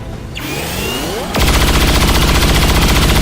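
Soldiers in XCOM 2 open fire on the Purifier, a rising whoosh followed by a loud, sustained roar of rapid automatic gunfire that fills the final two seconds.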